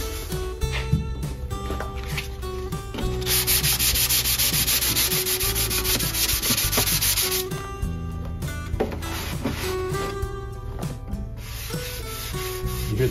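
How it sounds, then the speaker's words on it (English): A finger rubs back and forth over the sanded lacquered wood of a mountain dulcimer, producing a dry, raspy scraping in repeated strokes, loud and close, with a sustained hissy stretch midway. "if you run your finger over it, over the instrument, you'd listen to this."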